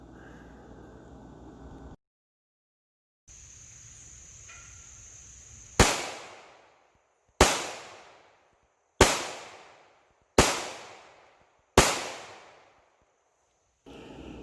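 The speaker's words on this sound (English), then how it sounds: "So next, let's shoot it at about 10 yards and see how that improves." Five sharp 9mm pistol shots from a Smith & Wesson M&P 2.0 EZ fired at a 10-yard target, spaced evenly about a second and a half apart, each crack loud and close with a short decaying tail against a quiet background.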